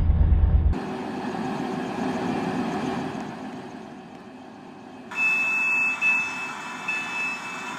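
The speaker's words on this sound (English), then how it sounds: "The train now approaching, Platform 1, terminates here." A train in Roblox rumbles steadily as it pulls into a station platform, with a low mechanical drone and a brief higher whine near the end.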